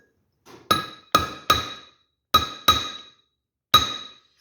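A hammer taps a bearing race into place on a 1969 VW Beetle: six sharp, ringing metallic strikes, close and isolated, arriving in uneven pairs and singles with quiet gaps between them.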